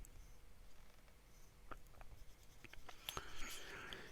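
A broad-nib Atelier Lusso fountain pen inked with Carina in black ice scratches faintly across paper as a swatch is drawn, soft intermittent strokes in a quiet room, with some brighter rustling toward the end.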